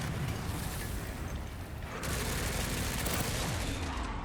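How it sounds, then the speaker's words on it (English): Continuous heavy gunfire in Resident Evil Requiem on Insanity difficulty, a dense unbroken barrage with mechanical clatter that thickens and grows louder midway, no talking over it. "I'm gonna try and parry some bullets."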